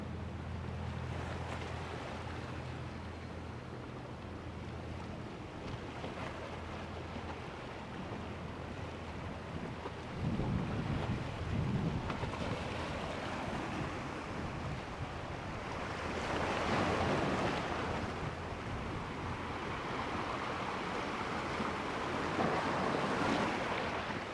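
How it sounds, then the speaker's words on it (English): Ocean waves roll onto the shore at South Beach, Miami, a steady broadband wash with swells rising around the middle and later, mixed with wind buffeting the microphone, with no talking. "Let me see if you guys can hear the waves."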